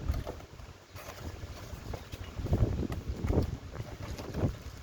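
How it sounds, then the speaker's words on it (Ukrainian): Gusty wind buffets the microphone outdoors, rumbling low and uneven with a few stronger bursts. "Просто на вулиці вітер."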